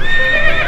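A white horse lets out a short, loud, close neigh lasting under a second.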